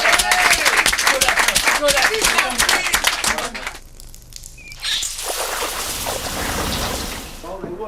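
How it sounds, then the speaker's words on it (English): A football team in a changing room clapping for themselves, fast and close for several seconds, then fading as the room noise quiets and a voice talks over the last part. "Give yourselves a round of applause."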